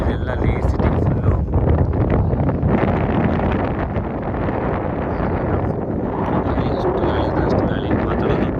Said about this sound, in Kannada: ಅಷ್ಟು ಗಾಳಿ ಮಾತಾಡೋದು ಕೂಡ ಕೆಲಸ ಅನ್ಕೊತೀನಿ